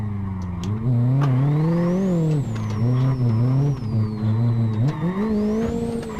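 A Renault Megane sliding through a handbrake drift in a racing game, engine revving up and down in a loud, steady whine with rising and falling pitch and faint tyre squeal, no talk.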